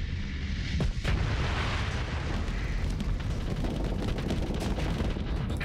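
Spaceships exploding in a Starsector space battle form a continuous, loud roar of blasts and weapon fire, with a sharp crack near the start and steady rumbling explosions throughout, no voices.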